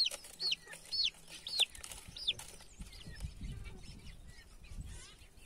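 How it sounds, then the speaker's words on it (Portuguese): Chicks being fed ground corn peep and cluck in several short, bright calls close by early on, then quieter scratching and soft chirps continue in the background. "Vou aproximar a câmera aqui para mostrar esses dois pintinhos"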